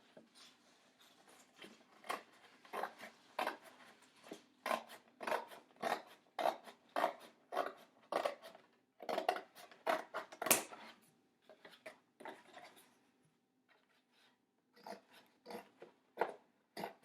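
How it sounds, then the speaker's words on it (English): Scissors cutting open an old cardboard cereal box, heard as a long run of close, crisp snips and crunches in quick rhythmic bursts, with a short pause before the cutting resumes. "find an old cereal box, and we are going to cut it open"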